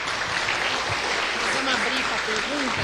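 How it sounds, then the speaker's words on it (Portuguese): A lecture audience gives a speaker a round of applause as a continuous, roomy roar of many hands clapping, with faint voices murmuring underneath throughout. "Uma salva de palmas para o João Paulo"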